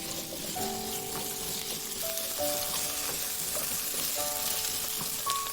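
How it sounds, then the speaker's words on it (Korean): Potatoes stir-frying in cooking oil for a Korean side dish give a steady, close sizzle throughout, with faint utensil clinks and scrapes scattered on top. "식용유를 넣고 감자를 넣고 볶고"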